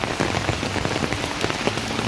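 Heavy monsoon rain in the Konkan pours onto tarpaulin and surrounding surfaces, a dense, loud, continuous patter with crisp individual drop hits throughout.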